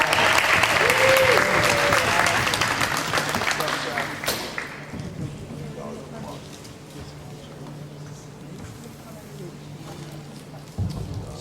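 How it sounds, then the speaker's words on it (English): An audience at an AAU all-star basketball game applauds honorees, loud clapping for several seconds that fades away, leaving a quieter gym with faint voices and a brief thump near the end. "So a big round of applause for our honorees."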